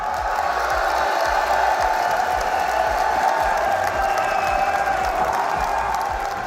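Arena crowd at the RLCS Copenhagen Major Rocket League quarterfinals cheers and claps for Karmine Corp, a loud sustained roar of voices and applause throughout.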